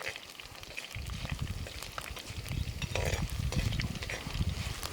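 Garlic, added with its skin on, frying in a pan for a Kodaikanal potato fry, giving a steady low crackling sizzle with light stirring scrapes, fairly close and continuous without any talking.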